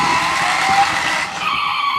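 Tires of a voice-controlled remote control car skid and squeal as it spins out, a continuous loud scraping hiss lasting about two seconds with no talk over it.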